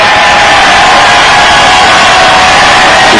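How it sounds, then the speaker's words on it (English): Loud, roaring stadium crowd at Abilene Stadium during a football field goal attempt, a dense continuous wall of cheering and shouting that holds steady throughout. "The crowd is loud as we've heard it all season long here at Abilene Stadium."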